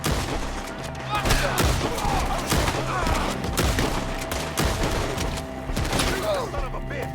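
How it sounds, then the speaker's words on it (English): Rapid gunfire in the Red Dead Redemption 2 video game, a dense fusillade of overlapping shots and cracks during a forest shootout with enemies in the trees, loud and continuous, with shouted game voices mixed in. "Shoot the ones up there first!"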